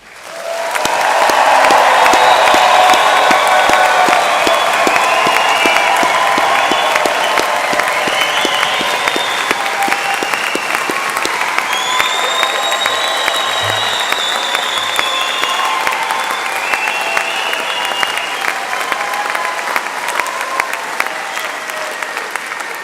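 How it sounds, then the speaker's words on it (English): A large graduation congregation gives a long, loud round of applause mixed with cheers and whoops for graduating health, education and life sciences students, sustained evenly for over twenty seconds. "Please, a huge round of applause."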